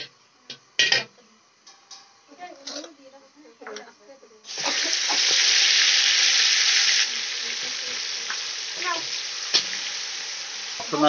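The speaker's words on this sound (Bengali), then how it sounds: "তেলের মধ্যে এবার আমরা দেবো আদা রসুন পেস্ট।" Ginger, garlic and green chili paste drops into hot oil and bursts into a loud, steady sizzle that fades slightly and keeps crackling, following a few soft clinks and handling noises.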